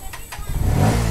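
A Bajaj Pulsar NS160 BS6 motorcycle with a starting problem cranks and then catches at full throttle, the engine rising from a few faint clicks into a loud, close roar.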